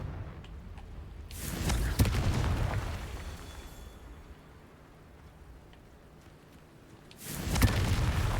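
Two heavy, rumbling Confringo spell blasts from Hogwarts Legacy go off several seconds apart, each a loud, sustained roar with crackle that swells and then subsides.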